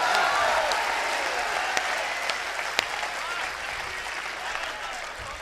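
Audience applause at a Hindi poetry gathering, a steady, moderately distant patter of many hands that fades gradually over a few seconds, with a couple of sharper claps standing out.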